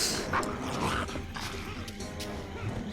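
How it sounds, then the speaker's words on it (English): Dogs in the medieval action game The First Templar, barking and yipping amid combat noise, with a voice speaking over them. "dogs!"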